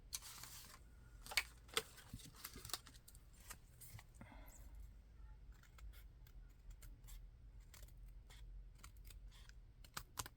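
Scissors snip through paper in a string of quick, crisp cuts, close and quiet, with small handling clicks between the snips and no voices.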